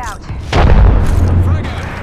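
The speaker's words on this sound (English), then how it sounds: "Throw my grenade out." A grenade detonates in a first-person shooter video game, a single loud low boom at about half a second that rumbles on for roughly a second amid game noise.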